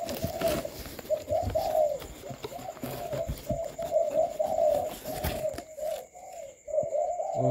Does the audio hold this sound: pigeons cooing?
yes